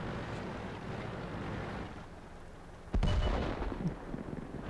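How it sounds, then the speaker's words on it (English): A Jagdpanther tank destroyer in World of Tanks fires its cannon once, a single sharp, booming shot from mid-distance that breaks a low rumbling battlefield hum and leaves a short reverberating tail. "I see the Jagdpanther shoot there"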